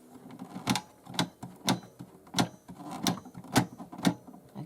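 A mini portable sewing machine stitching a zigzag pattern makes sharp mechanical clicks and clatter at an even, moderate rhythm, about two per second, close and alone.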